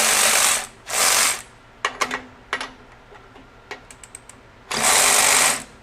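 A DeWalt 12V XTREME cordless ratchet whirs in two short loud bursts, then gives scattered light clicks and ticks as the socket is handled, before a final longer motor run, with no talking.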